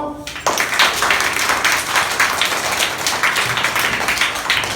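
A group of schoolchildren clapping together in a room, a dense burst of applause starting abruptly and continuing loud and close for several seconds before tapering slightly.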